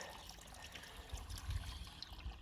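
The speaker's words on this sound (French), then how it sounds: "On remplit bien le seau complètement, complètement" Water poured into a bucket packed with stinging nettles, a steady low trickling and splashing that swells slightly toward the middle, heard close and alone.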